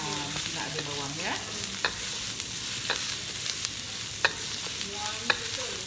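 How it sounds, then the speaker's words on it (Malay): Onions sizzle steadily in a hot pan with a loud, continuous hiss, broken by several sharp scraping clinks as a utensil stirs them, close up, with no talking. "Bawang ya, memang digoreng."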